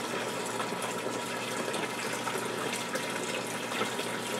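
Vankel VK750D external heating circulator pumping water into a bucket, a steady close splashing, running-water stream that continues evenly throughout with no voices.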